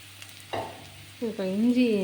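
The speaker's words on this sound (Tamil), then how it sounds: "இது வதங்கட்டும்" Ingredients sauté in a pan for a Tirunelveli sodhi kulambu, giving a low, steady sizzle with a couple of brief stirring scrapes and clatters.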